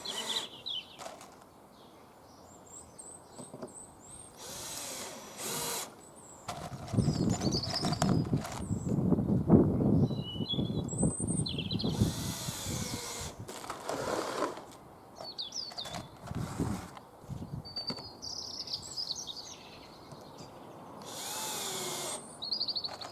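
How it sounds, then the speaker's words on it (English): A power drill drives screws into wood while a flower box is built, with intermittent whirring bursts and handling knocks at close range, birds chirping faintly outside. "So you'll notice these screws are going in the middle of the piece of wood."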